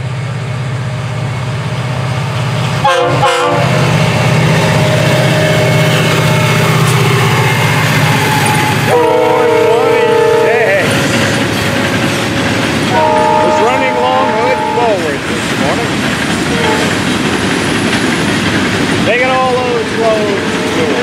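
The FEC 920 local freight train rumbles past close by with a steady roll of railcars and several loud horn blasts, including longer ones in the middle and a shorter one near the end.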